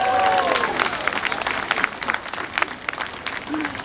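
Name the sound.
crowd applause at pep rally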